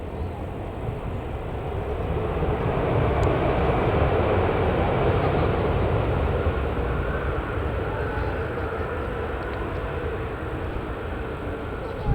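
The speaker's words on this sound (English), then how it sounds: "Okay, just landing now, it's an Airbus A320-200 EasyJet from Copenhagen." An EasyJet Airbus A320-200 landing at Manchester Airport, arriving from Copenhagen: a steady, broad jet roar swells slightly and holds at a constant loud level throughout, without clear distinct events.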